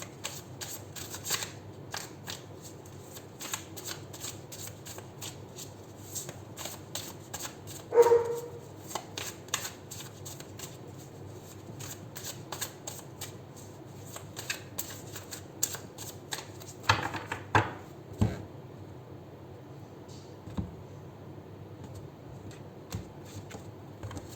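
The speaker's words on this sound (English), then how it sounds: "I'm going to be shuffling live, so we'll do 7 shuffles" Tarot cards riffle and slap together in repeated bursts of shuffling, crisp and close, with a brief squeaky yelp partway through.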